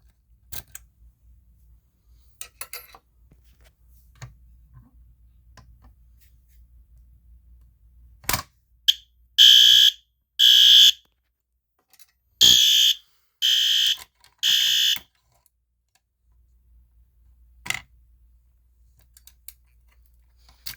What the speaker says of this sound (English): Yeah, the horn strobe is very loud.